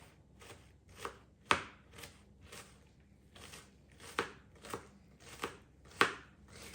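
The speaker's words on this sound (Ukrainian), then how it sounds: "Я буду просто міленько-міленько нарізати. Міленько кубиком." A knife finely dicing onion into small cubes on a board for stuffed cutlets, a steady series of crisp chopping taps, close and fairly quiet, with no talk.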